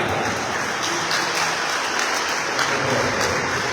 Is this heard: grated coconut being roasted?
no